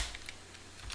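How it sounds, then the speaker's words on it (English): Rapid keystrokes on a computer keyboard entering a SQL Plus command, a quick run of soft clicks close by and fairly quiet, with no talking. "So now we'll type SQL plus"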